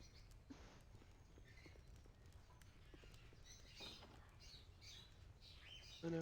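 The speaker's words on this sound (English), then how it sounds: "I can hear birds." Birds squawk in Baldur's Gate 2, faint game-world calls scattered over a soft ambient bed with light clopping footsteps, ending in a brief louder tonal sound.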